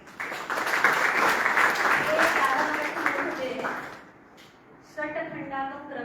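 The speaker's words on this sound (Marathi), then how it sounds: "जोरदार टाळ्या" Audience applause at a Jain religious talk in Kolhapur, a dense, loud burst of clapping lasting about four seconds before fading, followed by a voice resuming speech.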